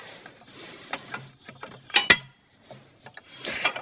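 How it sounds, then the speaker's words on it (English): A metal lift pin is worked out of the lower link arm on a John Deere 6610 tractor. Close scraping and rubbing is punctuated by a couple of sharp metallic clinks midway, with quiet gaps between. "Take the lift pin out."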